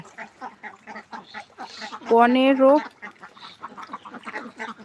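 Ducks on a duck farm give a loud burst of quacking partway through, set against a person talking steadily throughout.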